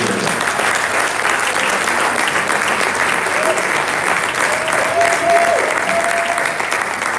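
Steady, dense applause from an awards-ceremony audience fills the hall for several seconds, loud and sustained, with faint voices and a brief whistle-like tone beneath it.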